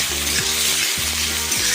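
Chopped onion fries and is stirred in a pan for a gimeshak dish, giving a loud, steady sizzle with a brief dip in the middle, where the stirring breaks the hiss for a moment.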